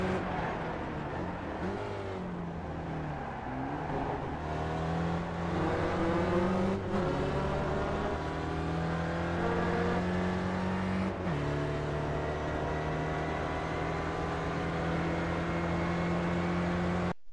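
An SRF race car in the iRacing sim at Zolder, its engine droning loud and steady at full power, rising and falling in pitch through gear changes, alone without talk.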